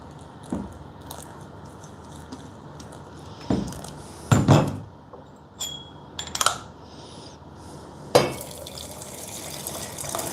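Hot water is poured over two green teas to rinse them gongfu style, heard as several short splashing pours and clinks of ceramic and glass teaware, close and intermittent against a quiet room background.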